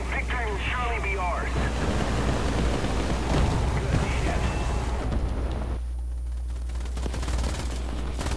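Bombs exploding in War Thunder, heavy rumbling blasts and crackling gunfire-like bursts over a constant low engine drone, with someone talking over it and the din thinning near the end.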